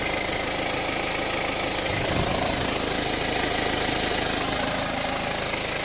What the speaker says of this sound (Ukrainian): Двигун працює, кажу, ну, годинник.